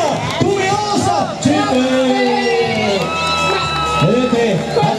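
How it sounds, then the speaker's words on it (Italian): A crowd at a Miss Palio pageant event claps and cheers loudly and continuously, with whoops and shouts rising over the steady applause and a loud amplified voice speaking over it. "Un applauso a questa bella coppia"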